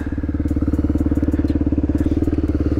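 A 1998 Honda XR 250R trail motorcycle idles close by, its engine throbbing in a steady, fast, even pulse throughout.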